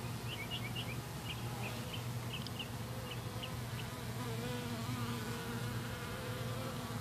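Honeybees hum during a hive cut-out removal in Haines City, Florida, making a steady, continuous drone with scattered higher buzzes of individual bees flying close by, with no talking.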